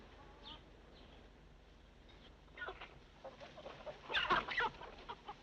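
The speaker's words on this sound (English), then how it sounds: "It's always good to have a few chickens on a reception committee, ain't it?" Farmyard chickens cluck in scattered bursts, quiet at first and growing busier and louder toward the end, heard alone without talk.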